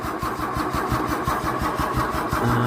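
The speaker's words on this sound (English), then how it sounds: "See if we can get it to fire up." Holden EH ute engine cranking over without firing, a close, loud, rhythmic chugging of the starter turning the motor in quick even pulses.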